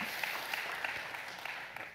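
An audience at a Symfony and Docker tech conference applauds, with a dense, steady patter of clapping from a crowd that holds for the whole moment at moderate volume.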